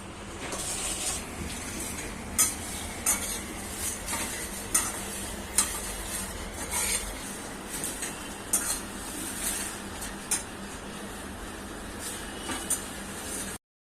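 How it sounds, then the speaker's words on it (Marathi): Whole coriander seeds and fennel dry-roasting in a pan, with a constant dry crackle and repeated sharp scrapes of a spoon against the metal, close and alone without talk. "आता हे चांगले खडे मसाले आपण भाजून घ्यायचे."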